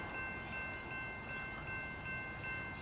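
A passenger train rumbles through a Melbourne suburban railway station at Riversdale, a low, steady, fairly faint drone of wheels and motors with a thin high whine on top, no voices.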